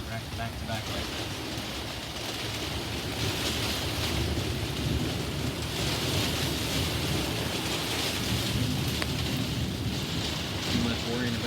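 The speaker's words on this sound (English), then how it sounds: "I love thunderstorms, but I don't like it when they come back to back like this" Steady heavy rain roars continuously with a low rumble of thunder underneath during a severe thunderstorm with strong wind, broad and enveloping without pause.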